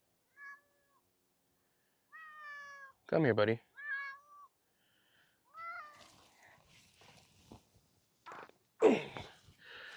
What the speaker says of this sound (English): So this is my cat